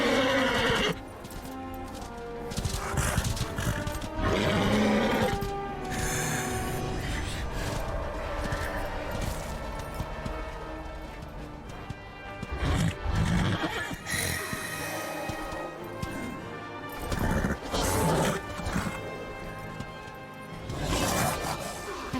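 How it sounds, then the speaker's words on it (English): Several loud horse neighs and whinnies from the video game Darksiders: Warmastered Edition ring out among hoof clatter and other busy background noise, repeating throughout. "That is one beefy horse."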